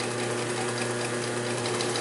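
A Singer 31-15 industrial sewing machine running with its loud stock motor, sewing heavy-duty bonded nylon thread, giving a steady, dense whirring hum that holds constant and close throughout with no talk.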